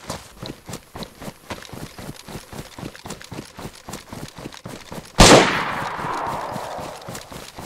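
Gunfire in the survival video game DayZ: a steady train of evenly spaced, fairly loud cracks, then one sharp close blast that rings out into a long fading tail.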